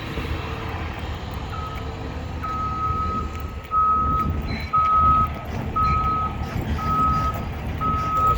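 Utility bucket trucks fix city lines at a road construction site. A truck rumbles nearby while a reversing beeper sounds in regular repeated pulses over the engine noise, with a distant aircraft hum behind.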